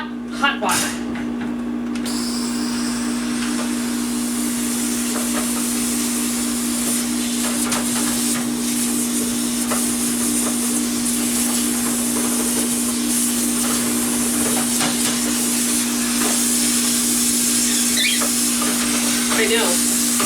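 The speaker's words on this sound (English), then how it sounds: "my steam cleaner is ready." A steam cleaner running on plain hot water while cleaning a bird cage gives a steady, loud hiss that lasts the whole stretch, with a faint constant hum beneath it.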